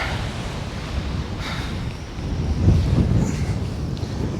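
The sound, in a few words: wind blowing at the beach while sea fishing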